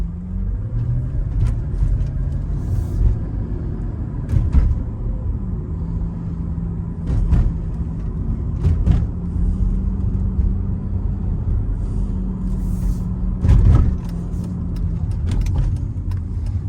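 A 2003 Mercedes SL500 R230 drives on the road after a Silver's Neomax coilover conversion replacing its ABC suspension, a steady low engine and road rumble from inside the cabin with periodic clunks and bumps over the surface.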